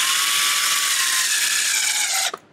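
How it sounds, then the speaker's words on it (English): A power drill with a magnetized bit whirs loudly and steadily for about two seconds, its pitch sagging slightly under load, then cuts off abruptly with a short clatter. "I was able to recenter it and drill it without anything"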